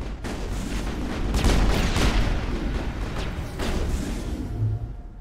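Sustained video-game gunfire from a Mass Effect firefight, dense overlapping shots and booms forming a continuous loud barrage for several seconds.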